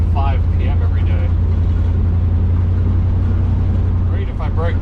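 A 1970 Chevelle on a test drive in evening traffic, a steady loud low engine drone and road rumble running throughout, with brief faint voices near the start and end.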